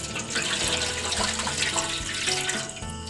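Tap water runs steadily into a pot to be boiled for a rice cake, a continuous close gushing splash with no talk.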